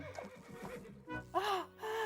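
A horse gives a loud, clear neigh with rising and falling whinny tones near the end, preceded by a few clip-clop hoof sounds and some breathy noise.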